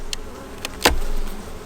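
Bees drone in a low steady hum inside an opened hive, close and continuous, broken by a sharp click or knock partway through.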